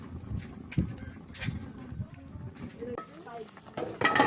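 Onions are tipped into a simmering pot of soup and stirred, with close scraping and faint sizzle over several seconds, and a brief voice comes in near the end.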